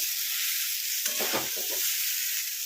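Fried pointed gourd tipped into a pan of simmering pumpkin curry, giving a short burst of sizzling and stirring clatter in the middle against a steady background hiss.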